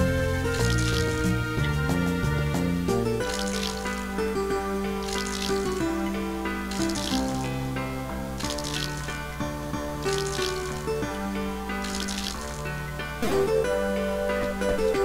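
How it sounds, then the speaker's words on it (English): A watering can pours over flower plantings in Rune Factory 2, with repeated short splashing bursts at a regular rhythm over cheerful game music. "Go now, the water pot."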